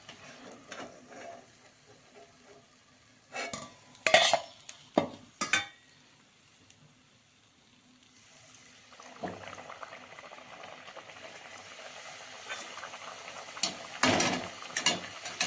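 Fenugreek puris fry in hot oil with a soft bubbling sizzle, broken by sharper splashes and clatters as they are lifted out, the frying rising again later on.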